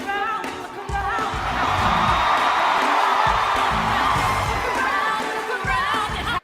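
Large theatre audience at the Tony Awards roaring and cheering through a Hamilton tenth-anniversary performance, a loud sustained wall of crowd noise with whoops over the music.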